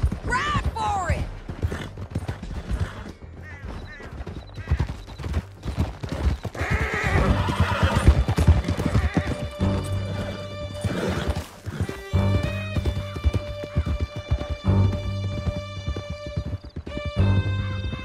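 Horses gallop with steady clip-clopping hooves and loud whinnies in Red Dead Redemption 2, the riding rumbling continuously over game music and effects, with voices at times.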